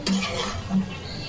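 Winter vegetables frying in a pan while being stirred: a brief spatula scrape and clink over a low sizzle.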